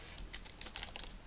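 Quick, light keystrokes tap on a computer keyboard while a SQL Server query is being written, a soft irregular run of about a dozen clicks close to the microphone with no talk.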